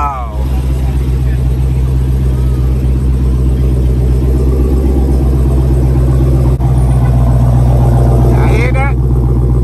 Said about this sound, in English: Yeah, it's a Hellcat, y'all.